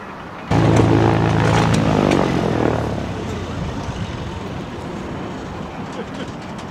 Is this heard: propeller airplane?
yes